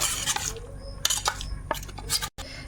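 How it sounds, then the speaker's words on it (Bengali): A spoon stirs and scrapes through beaten eggs mixed with turmeric, Kashmiri chilli powder and mustard oil in a bowl, giving close, irregular clinks and scraping strokes with a brief pause near the end. "এখন এই ডিমের সঙ্গে মশলাটা মেখে নেব"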